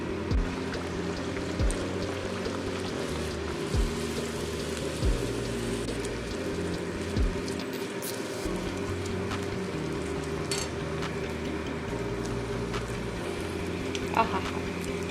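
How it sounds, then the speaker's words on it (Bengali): Pea-stuffed kochuri frying in hot oil, a continuous close bubbling hiss with a few soft clinks, heard on its own without talk. "প্রত্যেকটাকে আমি ওরকমভাবে ভেজে নেব।"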